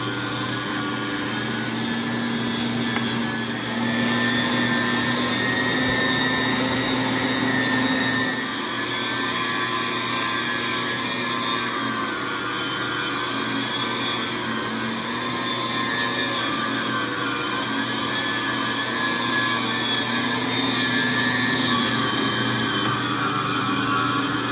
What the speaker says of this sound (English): So now we have all the meat and fat ground up